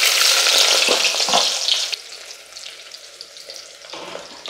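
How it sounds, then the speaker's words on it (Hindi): Chopped onion fries in hot oil in a clay pot, a loud, dense sizzle that settles to a softer crackle after about two seconds, with stirring and no voices. "यहाँ पे प्याज को ब्राउन करने तक भून लेना है।"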